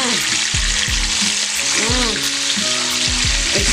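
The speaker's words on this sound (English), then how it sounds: "It started to fry up," Beef brisket frying in a pan on the stove, a dense, loud, continuous sizzle with rhythmic low bumps and scrapes of stirring running underneath.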